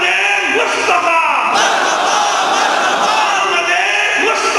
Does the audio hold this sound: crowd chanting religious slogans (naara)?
yes